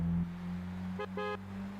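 A car horn in the racing game Gran Turismo 5 sounds two short honks in quick succession, the second slightly longer, over a steady, low engine drone on a rainy track.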